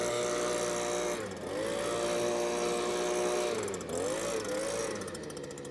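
Compressed air blasting dust out of a stump grinder's radiator, a steady loud hissing roar that dips briefly twice as the nozzle moves, with no talk over it.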